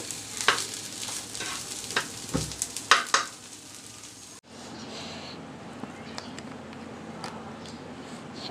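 Bottle gourd peel is stir-fried in a pan, heard as close, repeated scraping and clattering stirs over a frying sizzle, followed by a softer steady sizzle once the stirring stops; a voice talks over part of it.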